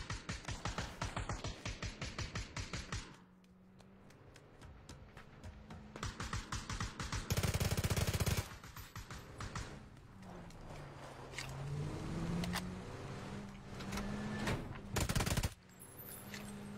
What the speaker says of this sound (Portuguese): Tomou tudo isso de tiro dessa arma.